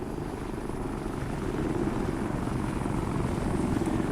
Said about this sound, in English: I can hear another helicopter coming in. So, here we go. Here comes the Ghost Hawk.